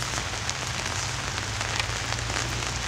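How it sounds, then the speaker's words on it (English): Heavy rain pouring down outdoors, a dense, even hiss of drops hitting surfaces continuously and loudly, with a low steady rumble beneath and no voices. "Guys, it's pouring rain."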